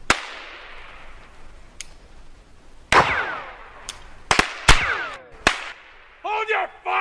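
Gunfire in a western shootout: a handful of sharp, loud shots ring out irregularly, a single crack followed by a tight cluster of three or four more, with a voice shouting at the end.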